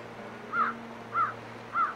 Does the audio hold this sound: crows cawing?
yes